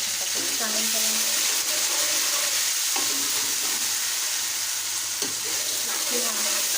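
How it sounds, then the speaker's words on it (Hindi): Ginger garlic paste fries with golden brown onions in a pan for an aloo chicken curry. A constant loud sizzle runs throughout, with occasional stirring scrapes and clinks. "प्याज जो है वो हमारा गोल्डन ब्राउन हो गया है तो इसमें हम अदरक लहसुन का पेस्ट शामिल करेंगे।"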